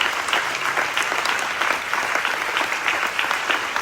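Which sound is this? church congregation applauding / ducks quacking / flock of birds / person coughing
church congregation applauding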